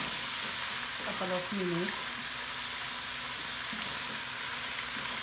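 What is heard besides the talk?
chicken sizzling as it roasts in pan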